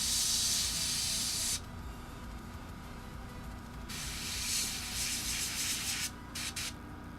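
An airbrush sprays olive drab paint in a steady, close hiss, cutting out briefly partway through, then returning with short on-off bursts near the end.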